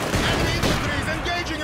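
Rapid bursts of PTRS anti-tank rifle fire in the Company of Heroes 2 Stalingrad battle, dense and loud shots overlapping with other gunfire in a noisy combat mix.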